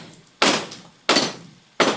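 Hammering on a construction job, three sharp loud blows spaced roughly two-thirds of a second apart, each ringing off briefly, close by and with no voices.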